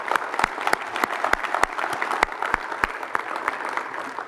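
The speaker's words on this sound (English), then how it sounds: "Let's give them a round of applause." An audience in a St. Genevieve theater applauds at a winter sports awards event, with a few loud, sharp claps standing out near the microphone over the steady clapping of the crowd.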